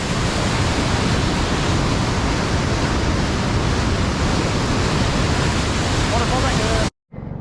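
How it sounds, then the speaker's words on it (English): Waterfall on the Mekong at Don Det, Laos, a loud steady roar of rushing water filling the whole scene without a break, cutting off abruptly near the end. "Waterfall right there."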